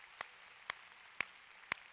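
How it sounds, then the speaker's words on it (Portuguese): Clapping in a church service, four single claps spaced evenly in a slow, steady rhythm, faint and sharp against a quiet room. "Quem pode dar um grande aplauso ao Senhor Jesus nessa noite?"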